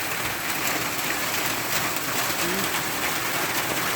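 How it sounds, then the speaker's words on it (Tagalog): Dense, steady rain hisses without letup, a heavy downpour drumming on a waiting-shed roof close by. "Sobrang lakas ng ulan guys."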